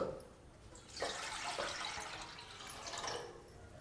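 Water and milk pour steadily into a pot for fenugreek rice porridge, with a soft, continuous splashing that rises and falls, fairly quiet, no voices.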